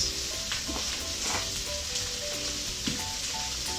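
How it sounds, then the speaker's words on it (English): Cauliflower frying in hot oil in a pan, a constant close hiss of sizzling with occasional soft stirring clicks, no talking. "once the oil is hot, so you just add your cauliflower into the pan"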